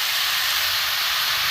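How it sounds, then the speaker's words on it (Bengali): Vegetables with washed rice and lentils frying together in a pan for vegetarian khichuri, a loud, dense, steady hiss of sizzling without pauses. "বন্ধুরা সব জিনিস ভাজা হচ্ছে, সবজি, চাল ডাল খিচুড়ির জন্য।"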